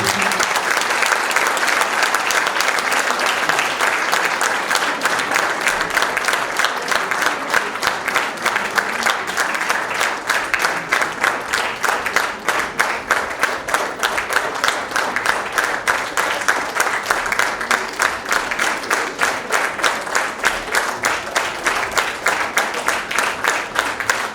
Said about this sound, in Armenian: Եկեք ծափերով դիմավորենք